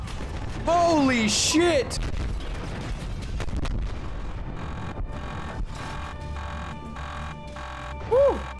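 Heavy tank cannon fire in the video game Battlefield Hardline, booming loud blasts under an excited voice shouting, with engine rumble and wind-like noise between shots.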